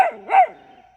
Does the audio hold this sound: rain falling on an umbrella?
no